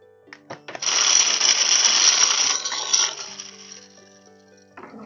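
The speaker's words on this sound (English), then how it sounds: "Okay, so I clean that up. My lovely desk vacuum." A small desk vacuum cleans up a craft desk, a close, steady rattling whir of crumbs and bits being sucked up for several seconds, with clicks as it starts and again as it shuts off, no talk.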